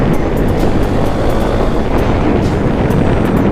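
A KTM Duke 390 motorcycle cruises in second gear along a dirt road, its engine a loud continuous rumble buried under heavy wind buffeting on the microphone.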